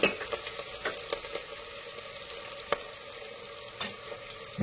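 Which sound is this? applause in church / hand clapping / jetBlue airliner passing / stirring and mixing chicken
stirring and mixing chicken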